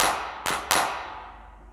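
Two sharp 909-style drum machine claps from stock GarageBand sounds for an Afrobeat beat, struck in quick succession over a decaying bright wash, alone with no talk.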